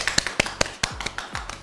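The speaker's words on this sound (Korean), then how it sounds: "박수!" A small group claps to welcome two participants at a Korean summer dessert-making session before making mango bingsu. About a dozen sharp, separate claps sound close and bright, with some low thumps between them.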